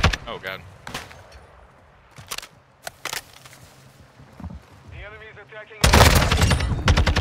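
Automatic gunfire from Call of Duty Modern Warfare 2 on a ranked control map, loud rattling bursts with a sharper barrage near the end, mixed with game effects and players talking over it.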